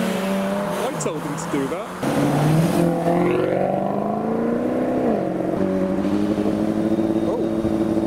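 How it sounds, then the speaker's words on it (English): Performance cars leaving a car show, with engines revving and a brief tire skid among loud traffic noise as people talk over it. "Oh, that was a skid."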